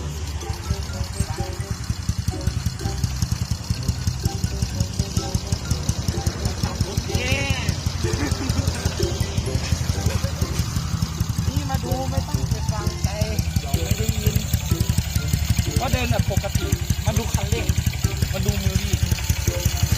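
A motorcycle engine with a Sonic-type piston idles with a rough, steady throb, briefly revved with small twists of the throttle, close and loud under ongoing talk.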